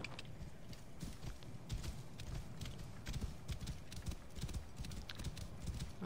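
Horse hooves in the game Assassin's Creed Origins, a quick, even clip-clop of a horse moving at pace, close and steady across the whole stretch, with faint background game ambience.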